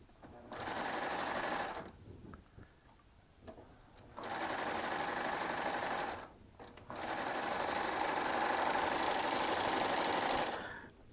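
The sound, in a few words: Baby Lock Triumph serger sewing with ruffling foot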